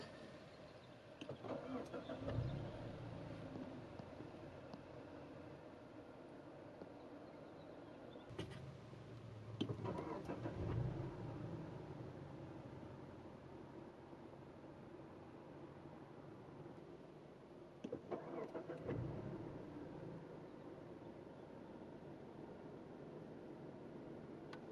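A 2021 Mazda CX-9 with a 2.5-liter turbocharged inline-4 starts by push button. Its starter bursts recur several times over a steady low idle, recorded from the cabin without talk.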